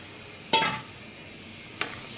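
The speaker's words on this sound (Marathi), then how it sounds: "आणि मस्त आता लो फ्लेमवर आपल्याला एकदम पिठाला या तूप सुटेपर्यंत भाजून घ्यायचं आहे" Two scraping stirs of a spoon through green gram flour roasting in ghee in a pan over a low flame, each a brief close scrape with a soft sizzle, separated by a quiet pause.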